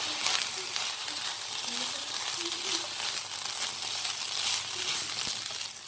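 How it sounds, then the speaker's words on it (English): Fried rice in a hot pan sizzles steadily and loudly while it is stirred, with faint scraping and a voice talking under the frying. "stir it"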